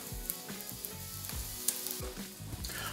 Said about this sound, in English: So at this point, I'm gonna add the sauce.